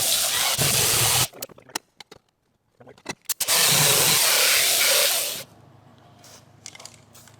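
Grinding on a 1992 Fox Body Mustang coupe during torque box reinforcement work comes as two loud, sustained, harsh bursts. Between them is a pause with scattered clicks and knocks, and a low hum lingers afterward.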